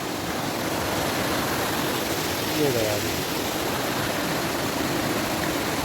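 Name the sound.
two waterfalls merging into one stream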